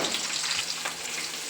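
Sliced onions sizzle steadily in hot oil with green chilies, ginger and garlic in a pan, a dense continuous crackling hiss with no voices.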